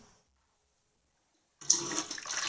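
Warm water poured for bread dough starts abruptly after a silence, a steady splashing stream falling into a bowl, close and moderately loud.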